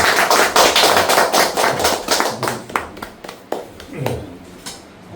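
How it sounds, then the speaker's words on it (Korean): A lecture audience at a Korean governance talk applauds to welcome the speaker, dense clapping that fades over several seconds into scattered claps while voices begin to speak. "여러분 큰 박수로"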